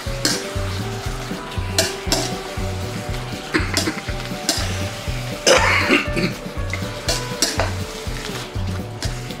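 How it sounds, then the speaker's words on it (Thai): Wood ear mushrooms are stir-fried in a pan with a steady loud sizzle, and a spatula scrapes and knocks against the pan in a quick repeating rhythm. "ผัดให้เข้าที่ครับ"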